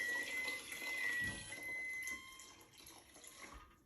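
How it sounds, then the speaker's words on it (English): Masa and water mixture poured into a large pot, a soft, close liquid splashing and trickling stream that runs for a few seconds before tapering off. "I'm gonna pour it into my large pot."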